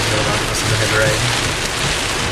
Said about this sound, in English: Because of the heavy rain.